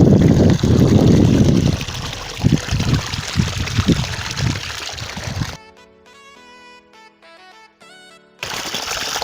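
Water gushes from the outlet pipe of a 2HP solar-powered submersible borewell pump, a loud steady splashing rush that cuts off abruptly partway through and returns near the end, with music playing in the gap.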